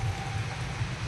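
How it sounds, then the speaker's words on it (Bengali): Heavy rain pours down in a steady, dense hiss that holds at an even level from start to finish, with no voices. "বৃষ্টি এখন হচ্ছে খুব জোরে"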